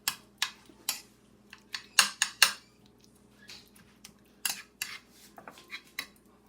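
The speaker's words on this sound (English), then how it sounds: "just take your fork or a knife or a spoon and squash it up" A fork mashes garlic against a bowl for eggplant baigan choka, giving close, sharp metallic clinks and taps in irregular bursts.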